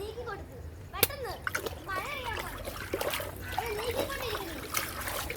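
Water is pushed along by hand and splashes and sloshes repeatedly nearby, mixed with frequent chatter from children.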